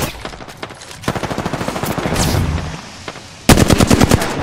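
Rapid automatic gunfire in Apex Legends while playing Caustic, loud close bursts of rattling shots in quick rhythm, pausing briefly before a heavier volley resumes.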